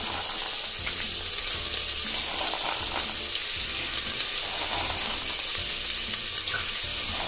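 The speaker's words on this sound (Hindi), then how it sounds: "इसमें हम चना और आलू को डाल देंगे और 5 मिनट तक इसको भूंजेंगे।" Chickpeas and potatoes frying with onions in a pan, a steady loud sizzle that holds constant throughout, close up, with faint stirring noises underneath.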